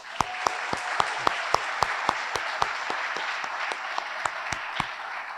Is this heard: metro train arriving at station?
no